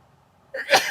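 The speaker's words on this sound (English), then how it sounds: "Oh, excuse me, I'm about to sneeze." A single sharp sneeze bursts out after a near-silent moment, close and loud.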